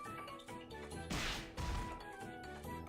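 A hare landing punches in Monster Rancher 3, a pair of sharp, loud impact hits amid game music and effects.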